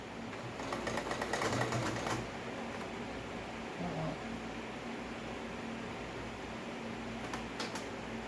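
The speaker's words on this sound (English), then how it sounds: "so I'm stitching on the wrong side of the fabric. Again, I want a back stitch." A sewing machine back stitches on fabric, a faint steady mechanical whir with short bursts of faster stitching, running alone at low volume.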